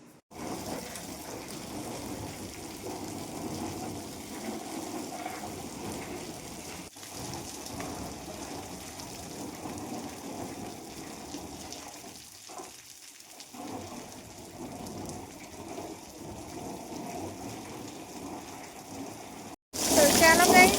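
Water gushing from a motor pump into a container, a steady rushing hiss that runs for about twenty seconds, briefly dips, then ends in a short louder burst.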